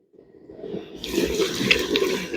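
Water splashes onto clay spinning on a pottery wheel, starting from quiet and building into a close, steady wet wash with the wheel's low rumble beneath.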